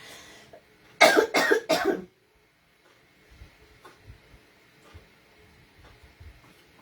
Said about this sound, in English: Sorry, I'm going to cough again.